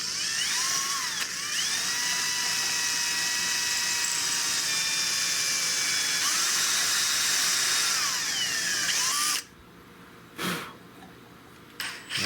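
Power drill boring a hole in a replacement wooden stock for a Spanish-made Richland Arms 20-gauge shotgun, a steady high whine with shifting pitch for about nine seconds, then stopping, followed by a few short bursts and quiet.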